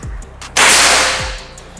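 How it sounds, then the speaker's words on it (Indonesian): A single sharp, loud PCP air rifle shot close by, a sudden crack followed by a brief hissing burst of air. "Nah, kita coba tembakan pertama."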